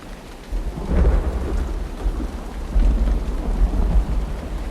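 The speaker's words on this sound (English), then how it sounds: "It is starting to rain." Rain falls steadily in the Uru: Ages Beyond Myst video game while thunder rolls and booms twice, deep and loud, over the constant hiss of the downpour.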